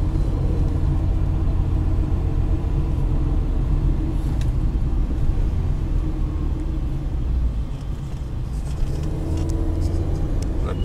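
A 2007 MAN TGA truck's diesel engine idles with a deep, steady rumble close by, running continuously with slight variations and a few faint clicks.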